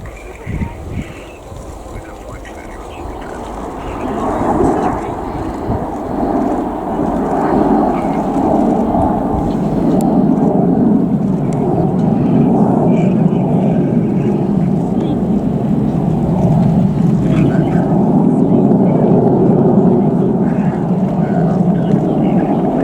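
An F-35 fighter jet's loud, sustained roar at an air show builds over the first few seconds and then holds steady at high volume, a broad rumbling wash of engine noise.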